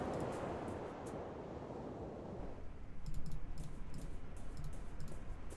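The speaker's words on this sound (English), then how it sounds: "Sound of my frustrated clicking." Mouse clicks while playing The Last Door: Season 2, a point-and-click horror adventure game, a scattering of sharp clicks over a steady background hiss that grows slightly louder midway.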